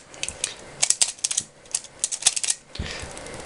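MoYu Pyraminx puzzle with an unlubricated core being turned by hand, giving quick bursts of dry plastic clicks and rattles in irregular flurries, close and moderately loud with no talking.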